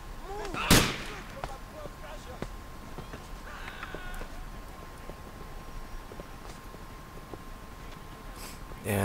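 A single loud gunshot rings out in the GTA IV game during a police patrol, followed by a low steady ambient hum and faint scattered noises.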